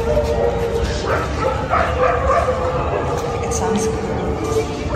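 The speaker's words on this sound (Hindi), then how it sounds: "सिर्फ कुत्तों के हाउलिंग की आवाज आ रही है यहाँ पर" Dogs howling and yelping in the distance at night at Humayun's Tomb in Delhi, a steady chorus of wavering cries running through the whole stretch beneath people talking.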